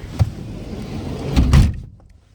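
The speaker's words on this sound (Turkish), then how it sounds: "kapıyı kapatayım ben" A hotel room door is pushed shut, with a short knock early on, then a shuffling swing and a firm thud before the room falls nearly silent.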